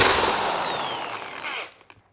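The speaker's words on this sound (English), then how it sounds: "Now I turned this sucker all the way to the lowest setting, and we're gonna go ahead and remove these 6-point, not 5-point, tamper-proof screws." A power drill on its lowest setting backs tamper-proof screws out of a Onewheel Pint electric skateboard. It whirs steadily and close up, its pitch sliding, then cuts off abruptly and leaves a few small clicks.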